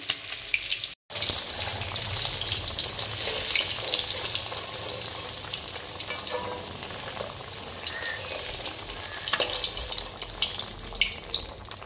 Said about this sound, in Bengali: চলো, মাছগুলো ভাজা হয়ে গেছে, এবার তুলে নিই।